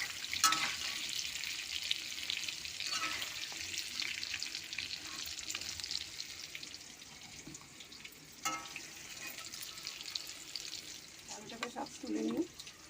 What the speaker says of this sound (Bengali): আলুটা ভাজা হয়ে গেছে, নুন আর হলুদ দিয়ে ভেজে নিয়েছি লাল করে